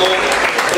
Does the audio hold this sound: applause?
yes